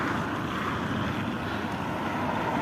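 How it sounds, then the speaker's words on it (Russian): Strong wind in extreme cold, around -40°C, roars continuously and loudly, buffeting the microphone with a dense, unbroken rush. "Вот такой ветер."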